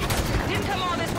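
Dense, rapid gunfire from shooting in the Halo 5 video game, a continuous loud barrage of overlapping shots with a voice faintly mixed in.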